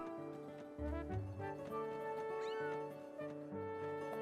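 A cat in a Switch video game meows in a few drawn-out, mewling calls over steady game music, moderately close and clear.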